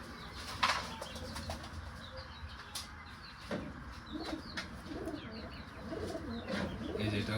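A racing pigeon being handled, with soft wing flaps and rustling, a sharp flutter near the start and low cooing of pigeons in the background throughout, fairly close.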